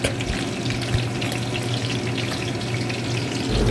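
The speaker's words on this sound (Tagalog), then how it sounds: "Prito tayo na ano? Bangus. Ayan o. Pritong bangus." Milkfish (bangus) fries in hot oil for pinakbet, a steady, dense sizzle with crackling pops filling the whole stretch at close range, no voices over it.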